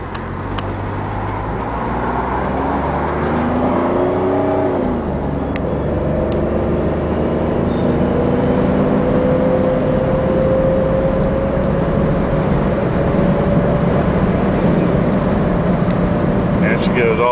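A Chrysler Sebring convertible with its top down accelerates through the gears, the engine's loud, steady drone rising in pitch, dipping at a shift, then climbing again under constant road and wind roar.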